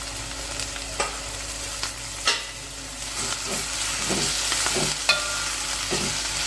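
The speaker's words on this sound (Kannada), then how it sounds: "ಇವಾಗ ನಾನು ಹೆಚ್ಚಿಟ್ಕೊಂಡಿರೋ ಬಸಳೆ ಸೊಪ್ಪನ್ನ ಹಾಕ್ತಾ ಇದ್ದೀನಿ" Chopped Malabar spinach frying in hot oil in a home kitchen, a steady loud sizzle with scattered scraping knocks as a spoon stirs the greens in the pan, no voices.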